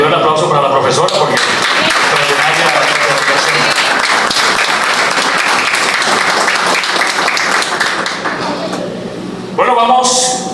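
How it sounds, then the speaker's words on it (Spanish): Sustained applause from an audience at a historiography congress in La Sierrita parish, Municipio Mara, honoring a teacher; dense, loud clapping runs steadily for about ten seconds with speech present, then tapers near the end. "pido un aplauso para la profesora"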